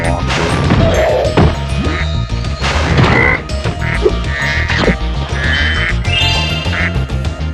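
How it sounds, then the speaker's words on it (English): Ducks in the Mystic Marsh level of the PS1 video game Spyro 2: Ripto's Rage, quacking loudly and repeatedly over busy game music and sound effects, close and dense, with no voices. "Now what could these ducks be for?"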